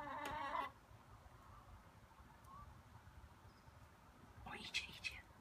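Faint, quiet clucking from a backyard hen at the start and near the end, with soft background noise and a little whispered speech.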